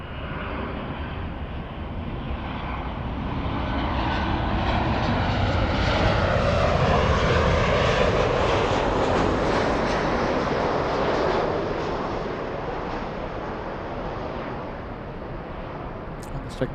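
An airliner at Los Angeles LAX airport, bound for Honolulu, passes with a broad jet roar that swells to a peak midway, then slowly fades over about sixteen seconds.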